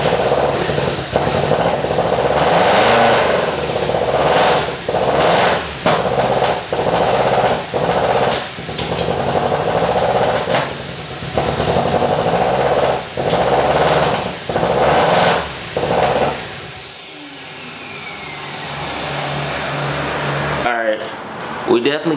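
The engine of a modified big-turbo Audi TT runs loud and close, surging up and down in repeated uneven pulses before settling toward idle. A voice talks over it near the end.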